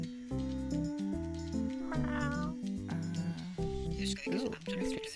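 Cat meows in a cat video game, several tonal, wavering calls in quick succession over game music and background sounds, fairly close and clear.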